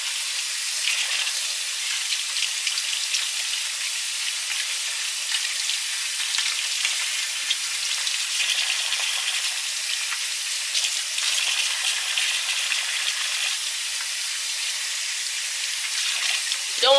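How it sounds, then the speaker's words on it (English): Cold running water rinsing the opened body of a Dungeness crab to wash out the guts, a steady hissing tap stream that continues unbroken throughout. "I'm just rinsing out the guts here."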